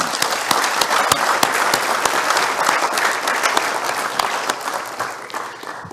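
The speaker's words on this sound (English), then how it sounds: "So please join me in giving a big round of applause to John Zigunakis." Loud sustained applause from an audience at an academic symposium, with dense, even clapping from a large crowd throughout.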